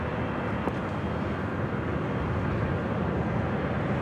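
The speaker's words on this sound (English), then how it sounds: "There's a heavy 747 on a 2-mile final" Heavy Boeing 747 landing at LAX on runway 24 left, a dense, steady jet roar that stays loud and constant throughout.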